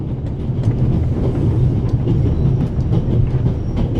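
Steady, loud rumble of a passenger train rolling on rails, heard from inside the carriage, with faint rhythmic clickety-clack over a continuous low drone and no voices.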